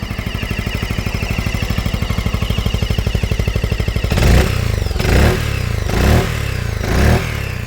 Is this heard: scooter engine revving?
yes